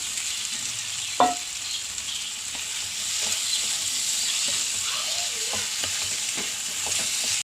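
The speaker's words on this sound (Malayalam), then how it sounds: "വറുത്തച്ച പനീർ ഇടുന്നു" Fried paneer cubes go into a masala curry sizzling in a pan, with a brief clatter as they drop in, followed by a steady, fairly loud frying hiss and stirring that carries on alone to the end.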